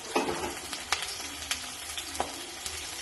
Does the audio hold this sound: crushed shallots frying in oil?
yes